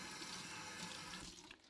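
A kitchen tap runs steadily onto a cleaning rag, a close hiss of flowing water that stops abruptly near the end.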